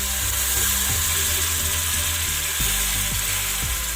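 Ginger garlic paste frying in a pan with tomatoes for prawn biryani, a steady loud sizzle under a low mechanical hum, with a few faint knocks as the mixture is stirred.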